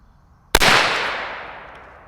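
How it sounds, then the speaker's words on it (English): One unsuppressed shot from a Fox Creek Arms FX-22 Ti rifle cracks sharply and loudly outdoors, then rolls away in a long, fading echo tail lasting over a second. "Let's shoot it real quick and see how it sounds without a suppressor"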